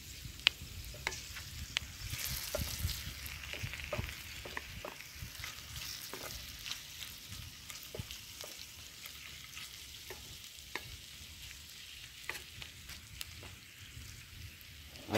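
Campfire burning damp wood in an outdoor camp, giving a steady crackle and hiss with scattered sharp pops throughout, at moderate level with no talking.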